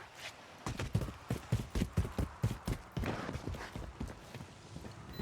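Footsteps in an online shooter game, a run of evenly spaced, soft thudding steps with a clip-clop quality, fairly quiet against faint game ambience.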